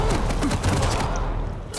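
Dense gunfire and explosions in a fast first-person shooter video game, a continuous busy barrage of blasts and thuds with no clear gaps, loud and close.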